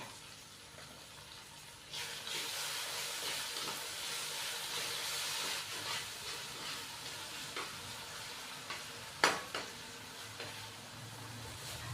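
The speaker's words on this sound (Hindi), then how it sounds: "खड़े मसाले डालने के बाद मैंने हल्का सा इसको फ्राई कर दिया है।" Whole spices — cinnamon pieces, black and green cardamom, black peppercorns and bay leaf — frying in oil for chicken pulao, a steady soft sizzle with occasional stirring clicks, close and quiet.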